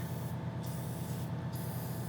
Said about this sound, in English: Take this air coil in there and just kind of spray it around.